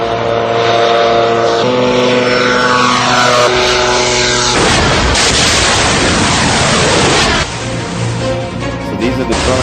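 A drone flying during an exercise, heard from a played-back recording as a loud, steady whirring propeller drone with shifting tones, heavy and continuous throughout.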